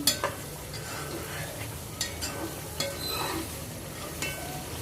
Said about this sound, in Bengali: এখন একটু কিছু সময় কষিয়ে নেব।